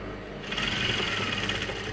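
Close sewing machine stitching knit fabric, a short steady motor whir with rapid needle chatter that picks up after a quiet start and runs on without speech.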